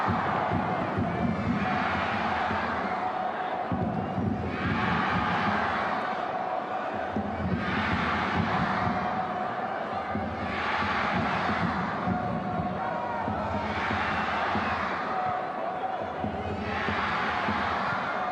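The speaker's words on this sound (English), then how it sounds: "Crowd as loud as it's been all game now." A stadium crowd at a China U20 versus Australia Young Socceroos friendship football match roars and chants in loud rhythmic surges, swelling and dipping in repeated waves of cheering across the whole stretch.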